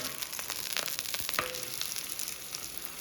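Onion bhakri flatbread roasts on a hot pan over medium gas, giving a faint, steady crackling sizzle with a few soft ticks and no voices.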